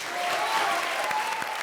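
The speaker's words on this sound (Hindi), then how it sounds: "तो ताली बजाओ फिर" A comedy show's studio audience claps in a dense, loud burst of applause that stays steady throughout and carries a faint crowd murmur.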